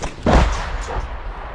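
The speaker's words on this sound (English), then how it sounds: "A second explosion follows" A heavy explosion in a war zone in Ukraine booms once, a deep thud with a rumbling tail fading over about a second, loud and somewhat distant, with no voices.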